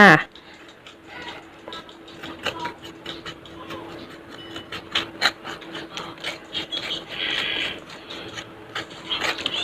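Papaya being scraped with a utensil, a continuous rough rasping with uneven strokes, close and fairly loud, while someone talks softly.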